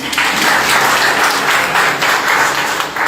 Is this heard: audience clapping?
yes